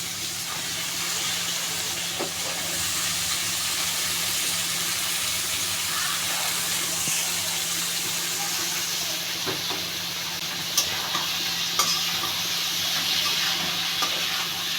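Potatoes frying and being stirred in a pan for a fish curry, a steady loud sizzling hiss that runs throughout, with a few faint knocks from stirring.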